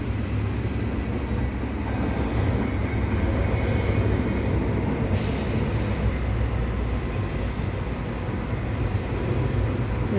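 A CP intermodal freight train rolling past at Dorval in the rain, a loud, continuous rumble and roar that holds steady from start to finish.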